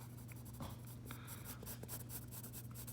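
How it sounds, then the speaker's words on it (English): A coloured pencil scrapes slowly and steadily across paper, a continuous close-up scratching with slight strokes and pulses, heard alone over a faint low hum. "just consistently drag my pencil across it nice and slowly"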